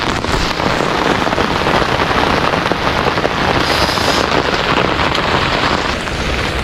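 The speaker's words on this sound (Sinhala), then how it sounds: "වහිනා හොඳටම" Heavy rain pours steadily on a hillside trail toward Belumgala at Kaduga, a dense, loud and unbroken hiss of drops drumming on surfaces for the whole stretch, with no voices over it.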